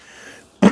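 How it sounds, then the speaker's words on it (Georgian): A single short cough bursts out near the microphone after a moment of near silence. "ძალიან დიდი ბოდიში რომ ახველებს."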